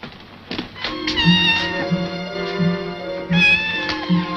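A black cat meows repeatedly in a barracks setting, a string of close, drawn-out cries with short gaps between them, heard alone without talk.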